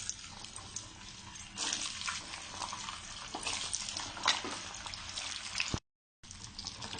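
Indian gooseberries frying in hot oil, a steady broadband sizzle that runs close and continuous, swelling louder partway through, then cutting out briefly near the end before resuming.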